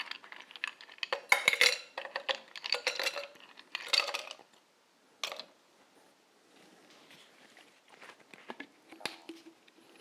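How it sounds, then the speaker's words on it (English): Ice cubes going into a cocktail shaker for a piña colada: several clusters of sharp clinks and rattles as cubes drop and knock against the metal, close and fairly loud, followed by quieter scattered knocks and faint handling. "We'll start with filling the shaker with ice."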